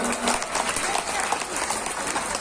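A hall full of university students applauds a police chief's lecture with dense, steady clapping throughout, close and loud.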